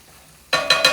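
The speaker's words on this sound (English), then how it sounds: "It's going to have a nice sizzle to it." Gulf Coast seafood for pasta hits a hot pan at mid-clip, bursting into loud, bright sizzling with two more surges of frying as it is stirred, after near silence.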